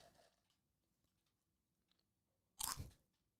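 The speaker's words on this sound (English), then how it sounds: "That had so much crunch to it." Chips are crunched between the teeth in one loud, close bite near the end, after faint mouth sounds and quiet.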